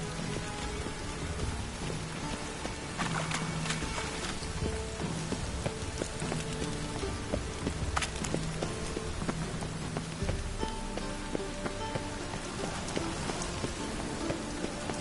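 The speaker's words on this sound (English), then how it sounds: "Rain again." Steady rain pours throughout in a video game, a dense hiss of falling water with scattered drops and faint background game sounds, continuous and close with no talking.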